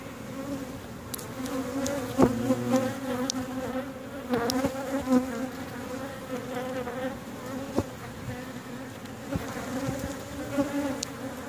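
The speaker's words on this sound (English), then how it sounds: "Bees that are here look healthy." Honey bees buzz steadily around an open backyard hive during a health check, a dense, continuous drone with individual insects rising and fading close by, heard alone with no talk.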